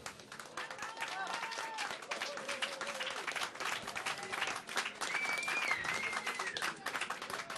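An audience applauds the musician with steady, moderately distant clapping, while voices and faint tonal sounds come through underneath.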